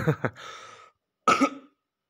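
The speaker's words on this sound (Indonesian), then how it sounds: "saya izin batuk dulu" Two coughs, the first a quick double burst, then a pause and a second single cough, close to the microphone with no talking.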